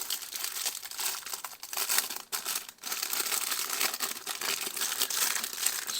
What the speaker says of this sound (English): So let's get the cellophane off.